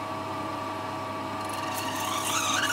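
A power drill bit whirs steadily into a small steampunk clock kit part, the pitch rising and straining near the end as the bit bites, close and continuous.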